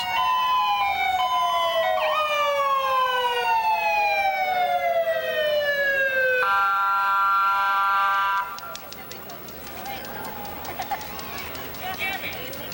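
Sheriff patrol car sirens wail loudly in repeated falling sweeps, then switch to a fast pulsing yelp, close by, during a parade.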